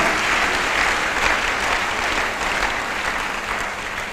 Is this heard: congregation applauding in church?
yes